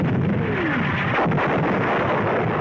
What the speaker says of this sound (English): A direct hit on an enemy 88mm gun position.